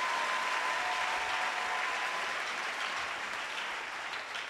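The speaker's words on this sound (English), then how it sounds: "If you want to clap your hands," A church congregation claps their hands during a sermon, steady sustained applause from many people filling the room, even and continuous with no voices over it.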